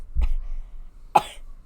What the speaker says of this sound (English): I can't even talk about it without coughing.